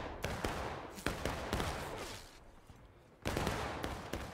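Massed rifle gunfire at a night field battle event in Hagerstown, a loud ragged fusillade of overlapping shots with sharp cracks, a brief lull, then another heavy volley.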